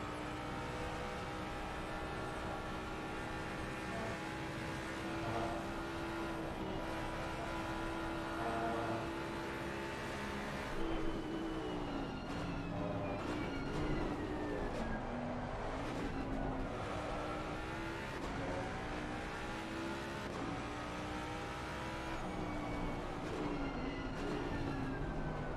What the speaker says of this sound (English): we should probably just be quiet and enjoy the sounds of the Mustang